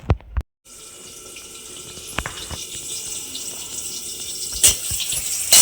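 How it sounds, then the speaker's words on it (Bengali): Fish being washed in a kitchen sink under a running tap: a steady close stream of water with a few clatters and splashes. No one speaks. "এই মাছটাও ধুয়ে নেবো ভালো করে"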